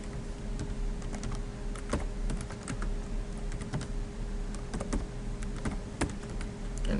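Fingers tap out a password on a computer keyboard in a quick, irregular stream of close, crisp keystrokes over a faint steady hum.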